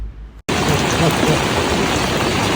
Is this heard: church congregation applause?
no